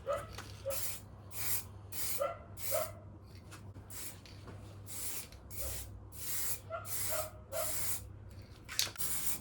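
An aerosol spray can coats alloy wheels with paint in a dozen or so short hissing bursts separated by brief pauses, close and loud against a low background hum.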